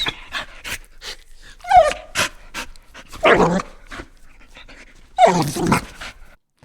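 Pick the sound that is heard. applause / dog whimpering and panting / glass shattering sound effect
dog whimpering and panting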